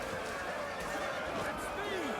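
Light cavalry horses charging in the Total War Rome 2 video game, with whinnying and hoofbeats kept steady and fairly faint under a busy battle mix, with no talking.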